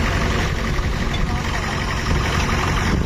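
A New Holland tractor engine runs with a loaded trolley hitched behind, a loud continuous low rumble with steady vibration throughout, close and unbroken.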